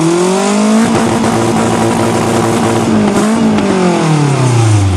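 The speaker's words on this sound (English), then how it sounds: "Okay, give us some revs." A Nissan 200SX with a modified exhaust manifold and a borrowed exhaust tip revs hard, its loud, close engine note climbing and falling through repeated throttle blips with a raspy exhaust tone.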